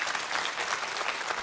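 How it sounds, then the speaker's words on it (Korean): Studio audience applause at a Korean television poetry-reading and music broadcast, a full, even burst of clapping that holds steady for its whole length with no talk over it. "여러분 큰 박수 다시 한번 보내주세요."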